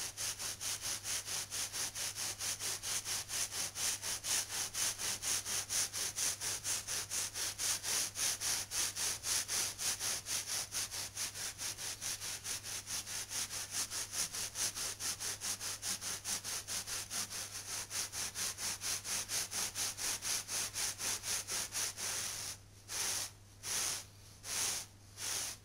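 A brush steadily agitates cleaning solution into a carpet stain, giving a fast, even scrubbing rasp for over twenty seconds, then a few separate strokes at the end; a constant low hum runs underneath.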